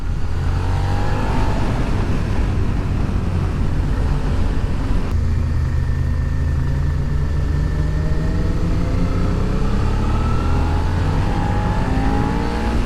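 A Suzuki SV650 motorcycle engine on a test ride, a loud continuous drone with rising and falling revs as it accelerates and shifts, heavy wind rush throughout, no speech.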